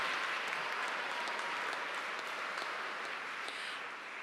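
Steady applause from a large commencement audience celebrating graduating degree candidates, a dense continuous patter of many hands clapping for the full stretch, fairly distant and even in loudness.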